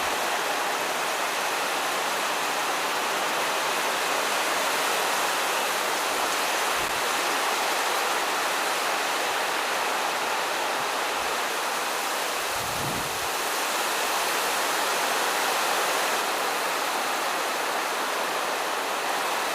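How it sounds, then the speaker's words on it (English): Heavy rain pours down steadily outdoors during a storm, a loud continuous hiss filling the whole span with no let-up and only a few faint low thumps beneath. "That's our rain right there."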